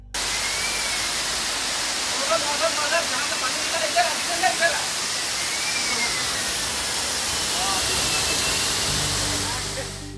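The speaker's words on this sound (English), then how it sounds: "nitrogen and water mist are discharged automatically to cool and extinguish the" Fire suppression system in an Indian Railways coach discharging nitrogen and water mist, a steady broad hissing spray that runs the whole time at moderate level, with a faint voice underneath.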